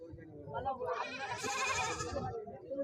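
At the weekly livestock market in Siddipet, Telangana, goats bleat close by in a short, wavering burst, mixed in with people talking.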